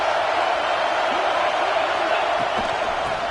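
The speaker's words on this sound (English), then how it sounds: "here comes the noise. This crowd is trying to inspire this defense to make a big red zone stop" A packed stadium crowd in the NCAA 25 college football video game roars steadily during a red-zone defensive stand, a dense, loud wall of noise that holds without a break.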